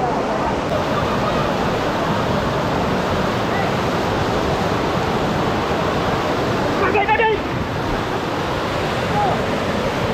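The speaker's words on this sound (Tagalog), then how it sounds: "Malalim ang tubig at napakalagas ng lagaslas ng tubig." Rushing water at Talon Falls in Ternate, Cavite, a constant loud roar of deep cascading water, steady and close, with a brief faint voice breaking through near the end.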